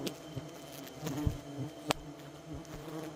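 Wild forest bees swarm around a large nest in an old banyan tree, droning steadily at close range, with scattered taps and knocks mixed in.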